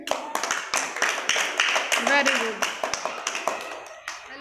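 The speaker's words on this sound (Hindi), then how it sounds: "सब लोग तालियां बजाइए" A group of children claps at school, irregular overlapping hand claps running throughout while an adult voice speaks and praises them over the clapping.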